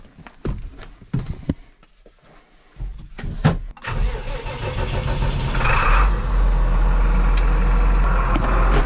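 Farm tractor engine at a forage chopping site: a few scattered knocks and clunks, then the engine cranks and catches around four seconds in and settles into a loud, steady rumbling run close by.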